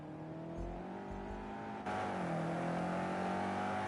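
BMW GTE race car, number 44, in a sim racing game at the Indianapolis road course, its engine a steady harmonic whine that abruptly swells louder midway, then sags slightly in pitch as it sweeps past, with no talking.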